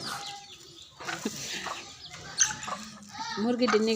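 Household chickens cluck nearby in short, repeated throaty calls that grow busier toward the end, with people talking over them.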